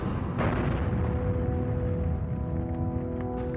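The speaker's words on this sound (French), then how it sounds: "Le Normandie est détruit par une explosion et un incendie" A massive explosion and fire engulf the ocean liner Normandie, heard as a loud, continuous roaring rumble with deep crackling, sustained throughout without any voices.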